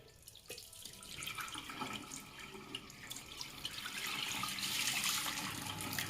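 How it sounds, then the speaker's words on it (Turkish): Dirty water from the tank of a Kiwi KCC 4320 carpet and upholstery washing machine poured out, a quiet continuous splashing gush that grows louder and fuller toward the end. "Bu şekilde şimdi döküyoruz"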